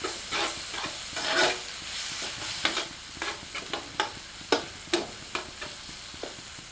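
Ground coriander, garam masala and ground cumin sautéing in a pan over medium heat for chilli paneer, a soft steady sizzle broken by a run of sharp scraping stirs, quiet and close, with no talking.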